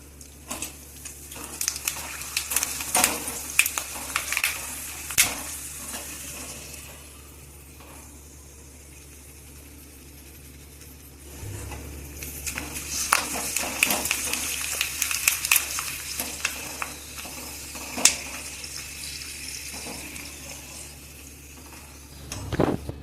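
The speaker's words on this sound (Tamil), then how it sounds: "கொத்தவரங்காயும் அவரைக்காயும் இப்போ பொரிக்க போகிறேன்." Sun-dried broad bean and cluster bean vathal frying in hot oil, two stretches of crackling, spitting sizzle with sharp pops over a low steady hum, separated by a quieter pause.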